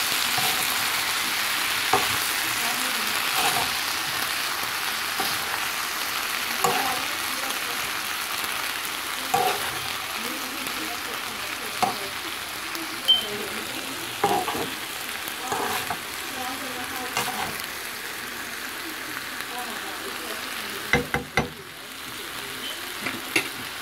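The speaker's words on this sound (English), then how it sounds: "I'm gonna add some coconut milk into it. And then give it a stir." Shrimp sizzling steadily in a pan with coconut milk, a continuous close frying hiss broken by soft scrapes and knocks of stirring.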